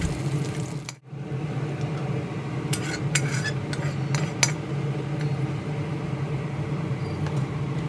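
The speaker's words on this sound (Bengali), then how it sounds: "ফোড়নের সঙ্গে থেতো করা রসুন ভালোভাবে নেড়ে চেড়ে হালকা গোল্ডেন কালার" Crushed garlic frying with whole spices in hot tempering oil and being stirred: a steady close hiss with scraping and light clinks, broken by a short silence near the start.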